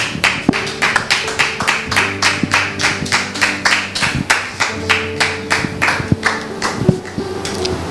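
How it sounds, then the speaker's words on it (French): A French television studio audience claps steadily for several seconds, a dense run of hand claps with a regular, slightly rhythmic pulse, fairly close and loud, with no talking over it. "Public, merci de le recevoir sous vos applaudissements"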